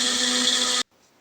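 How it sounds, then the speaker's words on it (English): A Magic Bullet blender whirs loudly and steadily as it mixes ingredients for a pantry clean-out meal, a close, constant motor drone that cuts off abruptly, leaving near silence. "just gonna mix that up in my magic bullet"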